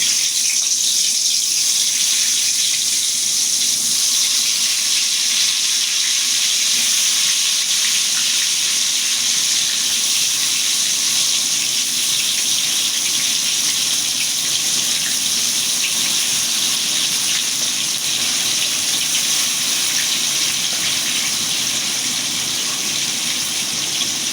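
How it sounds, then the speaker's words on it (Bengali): Pointed gourd slices frying in oil left from frying fish, a dense, even sizzle that holds at a loud level throughout with no voices. "এখন এই তেলেই পটল ভাজিয়ে নেবো"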